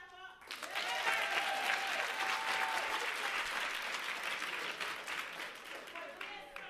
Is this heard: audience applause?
yes